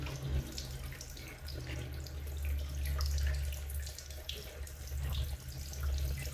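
Running water poured over plant roots to rinse them clean while repotting, a steady close splashing and trickling that carries on continuously with no talk.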